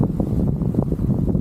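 Strong wind buffets the microphone on a grassy hilltop, a steady close low roar with gusty surges throughout, no voices.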